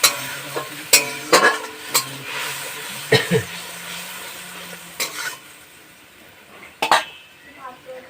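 A spoon stirs mustard and green chilli paste in a hot pan, with repeated metallic scrapes and clinks against the pan over a light, steady sizzle of frying.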